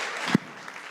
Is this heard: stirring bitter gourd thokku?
no